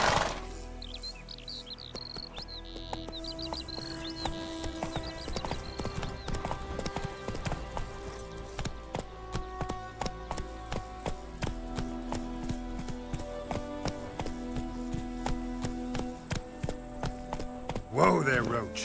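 Hooves of the horse Roach in The Witcher 3 game, a steady clip-clop trot of evenly spaced hoofbeats close by over ambient music, ending with a brief louder scuffle.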